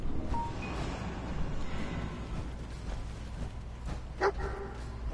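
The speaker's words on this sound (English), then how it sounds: "Something's barking. Is that my dog barking?" A dog barks in the video game Fallout 4 on PS4, several yips and barks scattered over busy game sounds and music, with one louder bark standing out near the end.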